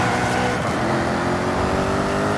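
A Jaguar XKR-S GT in Forza Horizon 5 accelerates hard, its engine roaring loud and close in a dense, continuous burst.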